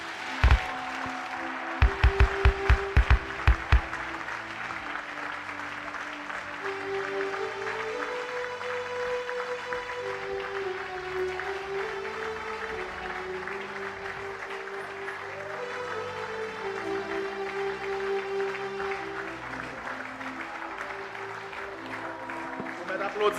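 Church congregation applauding steadily at a sermon, a dense continuous clapping wash running under sustained music or singing, with a few sharp louder claps near the start.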